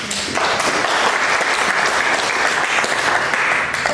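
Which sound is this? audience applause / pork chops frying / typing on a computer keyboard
audience applause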